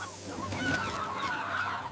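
Farm chickens squawk in alarm during a python attack, a close, shrill, honking clamor with several overlapping cries across two seconds.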